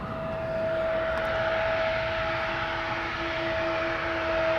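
A Bombardier CRJ900 regional jet with a T-tail, SAS flight to Stockholm, takes off at Schiphol's Polderbaan, giving a loud, steady roar with a sustained engine whine close by.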